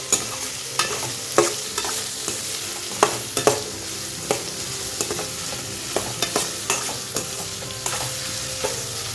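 Vegetables being sautéed in a pan for Maggi noodles, with steady stirring and sizzling and repeated sharp scrapes and clinks of a spoon against the pan, close and clear with no talking.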